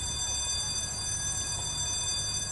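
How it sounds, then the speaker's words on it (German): A bank alarm rings without pause during a hostage standoff at the Pacific Bank in GTA 5 with the LSPDFR mod, a steady, loud electronic tone that fills the whole stretch. "do you want the tech team to kill the alarm?"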